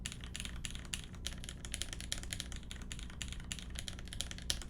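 Heavy typing on a mechanical keyboard with 125-gram springs, keys hammered hard in a fast, dense, irregular clatter close up, with no talking.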